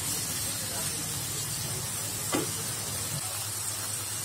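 Cumin seeds crackle in hot oil, a soft, steady sizzle with a brief stirring scrape partway through, faint and close.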